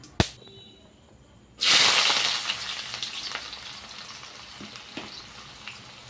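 Garam masala and spices hit a hot pan with a sudden loud sizzle that starts after a sharp knock and a quiet pause, then slowly fades into softer frying with a few light clinks.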